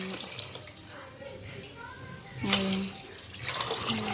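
Water splashes and pours in short bursts, with a steadier stream toward the end, while a voice talks quietly in the background.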